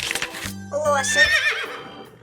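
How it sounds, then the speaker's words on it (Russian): Horse whinnies in a children's lesson on farm animals and their sounds, one loud rising-and-falling neigh over a low musical backing note. "Лошадь."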